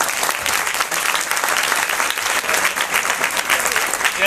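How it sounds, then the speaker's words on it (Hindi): Crowd applause at a science festival prize ceremony, a loud continuous burst of many hands clapping, dense and sustained with slight surges throughout. "तालियां बजाइए।"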